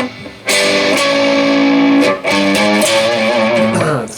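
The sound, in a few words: electric guitar playing riff from GAMMA's Voyager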